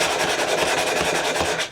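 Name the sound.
hand sanding the ends of a wooden board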